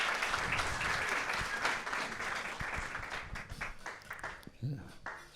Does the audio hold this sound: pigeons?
no